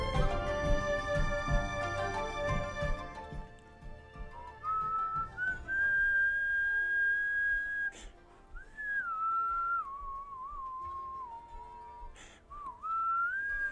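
A single person whistles a wavering, slightly off-key melody, following a fading musical passage, with short pauses between phrases.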